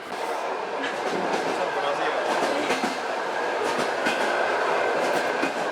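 A long-distance passenger train rolls steadily along the rails, a loud continuous rumble with rhythmic clickety-clack of wheels over track joints, heard from inside the carriage.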